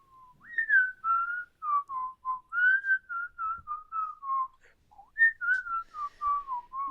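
A person whistles a tune solo, a clear run of short melodic notes rising and falling in a steady rhythm, close and moderately loud with no talking.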